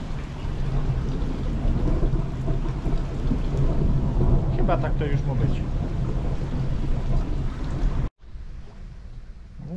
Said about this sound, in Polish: No ta burza dalej nie chce przejść.